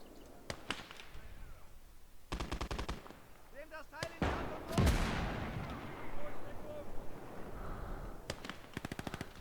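Machine gun fire in the Conquest Enhanced game: several sharp automatic bursts at intervals, mixed with louder explosive impacts and battlefield clatter in the middle, with a voice talking faintly underneath.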